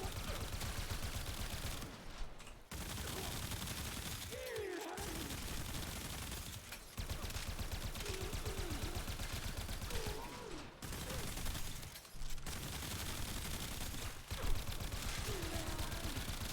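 Rapid automatic gunfire in the Warframe video game comes in long sustained bursts, loud and dense, broken by short pauses for reloads, with brief talk between them.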